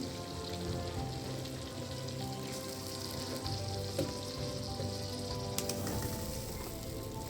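Fish pieces fry in a pan with spice masala, giving a steady, fairly quiet crackling sizzle with small pops and a faint stirring scrape now and then.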